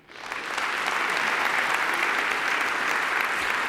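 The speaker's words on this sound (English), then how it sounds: "Let's give them a really big round of applause" A conference audience claps for a panel of corporate directors. The applause is dense and sustained, rising quickly and holding steady at full strength, with no talking over it.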